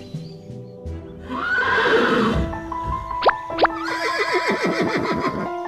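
An old, weak horse in an animated folk-tale cartoon gives a loud, drawn-out whinny, followed by a series of quick rising neighs and clip-clopping hooves against a musical background.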